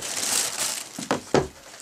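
Packing material crinkling and rustling while a keyboard dock for the ASUS Eee Pad Transformer Prime tablet is unboxed, close and fairly loud, with a couple of sharper crunches near the end.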